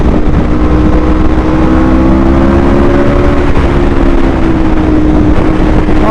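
A 2022 Aprilia RSV4 1100 Factory motorcycle engine accelerates hard, a loud continuous howl with rising tones heard up close under heavy wind rush.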